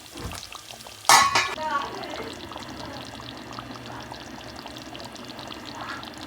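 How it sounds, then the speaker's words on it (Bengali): Fried ground spice paste tipped into a pot of Mezbani-style beef, giving a sharp, loud burst of sizzle and splatter that quickly settles into a steady low simmering hiss. "দিয়ে দিলাম ভেজে রাখা মশলাটা"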